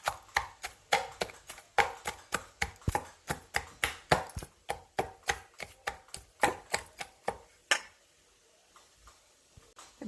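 Onion, salt and tomato mashed by hand for a dinner dish, heard as a steady run of sharp pounding thuds, about two per second, close and fairly loud, stopping near the end with no talk.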